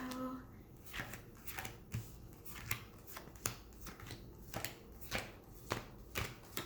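Tarot cards riffled and shuffled in repeated quick bursts, close up, each flurry a sharp papery crackle, with a faint voice now and then.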